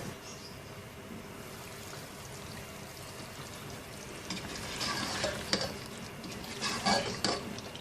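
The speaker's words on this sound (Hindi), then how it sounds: "अब ढक्कन लगा के इतनी देर तक पकाएंगे कि चिकन जो है मुकम्मल तौर से गल जाए" Masala chicken gravy simmers in a covered pot with a few spoonfuls of added water, giving a soft, steady bubbling and sizzle that grows a little louder and busier toward the end.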